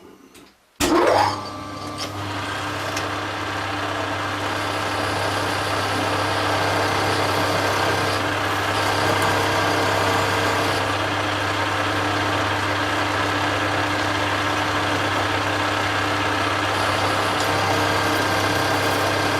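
An Easiturn lathe runs steadily at fairly high speed while turning an aluminium coupling, a sustained whirring machine drone with a hum beneath, starting abruptly after a brief pause and continuing loud and close without talk.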